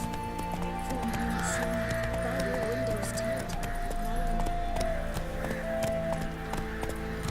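Roach the horse galloping in a video game, a quick rhythmic clip-clop of hooves with jingling tack and a brief whinny, over game music and ambience.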